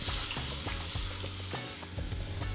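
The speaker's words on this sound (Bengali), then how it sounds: "দুধটা ভালো করে আমি ফুটিয়ে নেবো আর একটু দুধটা একটু জাল দিয়ে নেবো" Milk heats in a pan for carrot halwa, giving a steady close hiss and bubbling with a few soft rhythmic pulses.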